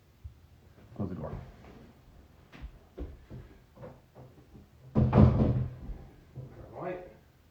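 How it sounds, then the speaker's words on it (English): A door closes with a dull thud amid household knocks and shuffling, followed by a louder clatter and people talking. "Close the door."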